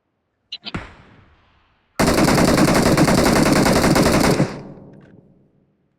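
Gunfire in a video game: two quick single shots, then a long, loud, rapid automatic burst lasting over two seconds that cuts off and fades, with no talk.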